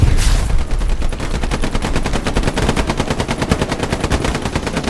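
Sustained rapid machine-gun fire, loud and close, rattling continuously for several seconds with game-like punch, in Hell Let Loose.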